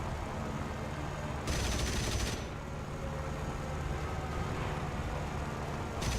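Machine gun fire from aircraft in War Thunder, bursts of rapid gunfire over a steady engine drone, with a loud stretch near the start and another burst at the end.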